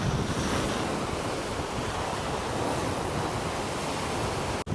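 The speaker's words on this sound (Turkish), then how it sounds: "Acayip bir rüzgar var." Strong wind roars steadily against the microphone on a hilltop on Çıfıt Island, İzmir, a dense, continuous rush of broadband noise with no speech, cutting out briefly near the end.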